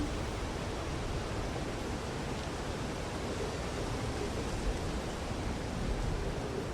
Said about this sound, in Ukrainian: Так, це легкий весняний вітерець.